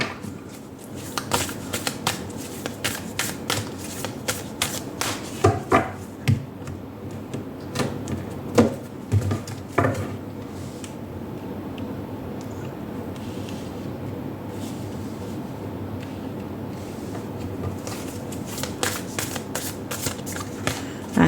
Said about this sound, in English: We'll first take out one card from the Angel and Ancestors Oracle. Ooh, terrible shuffle.